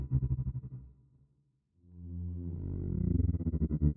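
A spaceship-like synthesized modulation effect with an automated rate warbles in steady pulses, fades almost to nothing midway, then swells back louder and denser, heard alone.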